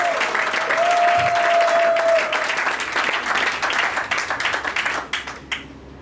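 Wedding guests at a civil marriage ceremony in Gabon break into loud, dense applause that swells and holds for several seconds, then thins into scattered claps and fades out, with a long whistle near the start.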